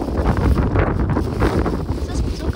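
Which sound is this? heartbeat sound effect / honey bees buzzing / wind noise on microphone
wind noise on microphone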